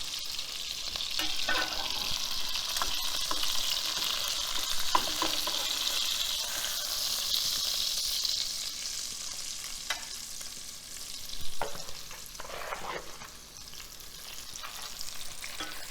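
Meatloaf browning in a hot pan, giving a steady, close, hissing sizzle throughout with occasional soft clicks and stirring scrapes; no talking.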